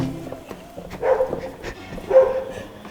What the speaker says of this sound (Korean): 개 짖는 소리 나도 모를 거예요